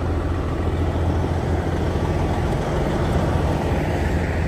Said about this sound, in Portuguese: Pelo roncado, acho que é um Detroit.